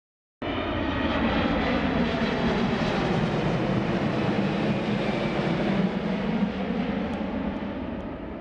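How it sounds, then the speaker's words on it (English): Loud, steady roar of aircraft engines at an airport, a broad continuous rumble holding level throughout with no talk. "So we're just in the airport now"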